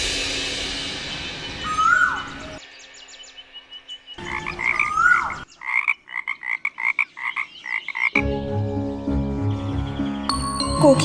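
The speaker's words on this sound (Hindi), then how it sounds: "किंतु फिर मेंढकों ने टर्राना आरंभ किया" A chorus of frogs croaks in quick, rhythmic pulses, loud and close, set in a layered mythological-drama soundscape with bird-like calls and music around it.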